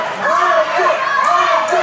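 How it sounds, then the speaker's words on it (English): A wrestling crowd at a ladder match cheers and shouts loudly, a dense, excited roar of many voices, with some higher children's shouts rising through it. "And the crowd is loving it"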